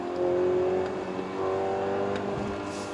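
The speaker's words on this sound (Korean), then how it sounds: "이 굵은 그리고 낮은 음색의 바리톤 음색의 이 엔진 사운드 상당히 매력적인데요." A Mercedes-Benz GLC 300 engine pulls hard on an open highway, a steady low, deep drone that swells and holds from inside the cabin, with no voices over it.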